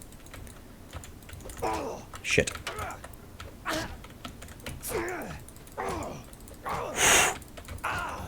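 Computer keys clatter in quick irregular bursts during a Mount & Blade II: Bannerlord combat training session, close and fairly quiet, with a man muttering and sighing between presses.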